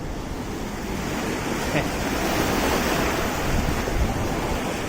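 Sea waves wash continuously beside a pier set out into the sea, making a broad, steady rush of surf and water mixed with wind buffeting the microphone.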